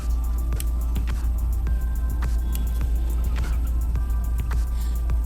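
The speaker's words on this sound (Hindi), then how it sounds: "मुझे बहुत जोर का एक्सीलेटर देना पड़ेगा" A car engine in the BeamNG.drive driving game is pushed hard, a dense, loud, sustained engine roar with a deep low rumble and no talk over it.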